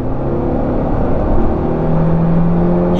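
A 2019 Honda Civic EX turbo engine pulls under hard acceleration, a loud, steady interior drone with a rising tone that holds for the whole stretch.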